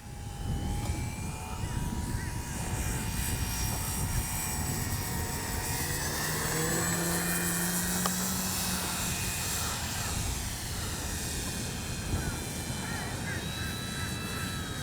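A Dynam DHC Beaver V2 radio-controlled model airplane flies overhead on a windy day, its motor droning steadily and fairly faint beneath continuous gusty wind noise.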